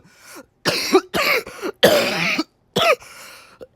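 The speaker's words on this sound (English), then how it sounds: "I have a cough, and my throat is irritated" A person coughs repeatedly from an irritated throat, giving five or six loud, close, harsh bursts separated by short silent gaps and ending with a brief catch.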